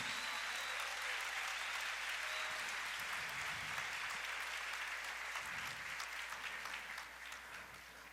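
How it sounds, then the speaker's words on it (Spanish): Church congregation applauding at a worship service, a steady wash of many hands clapping at moderate distance that carries on throughout and eases slightly toward the end, with faint voices underneath. "Bien fuerte ese aplauso a Jesús."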